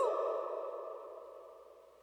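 A single bright synth tone through a ping-pong delay and reverb rings out and fades slowly into a long, washy reverb tail.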